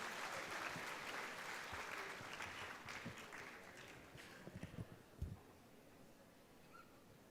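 At a conference inaugural session for CA students, the audience applauds its chief guests and dignitaries; the quiet, distant clapping fades gradually, with a few louder scattered claps near the end.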